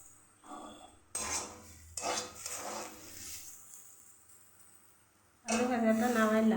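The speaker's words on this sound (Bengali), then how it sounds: "এবার আলু ভাজাটা নামাই ফেলি।" Fried potatoes are lifted from a pan, with a few metal utensil scrapes and clinks between stretches of talk, close and fairly quiet.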